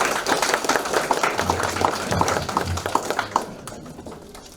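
An audience at a lecture on workplace violence against women breaks into applause, a loose scatter of claps with a faint low hum underneath, thinning out toward the end.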